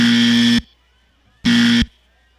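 An electronic buzzer used as a penalty signal on a live hangout stream sounds twice, each a loud, steady, harsh blast of about half a second, separated by a pause of near silence.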